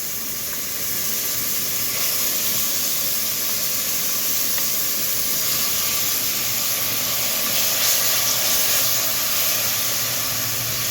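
Onion with ginger-garlic paste fries in a pan for a potato, drumstick and tomato curry, giving a steady, dense, even sizzling hiss that continues throughout without pause.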